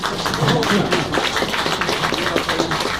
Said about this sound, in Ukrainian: Панове оплески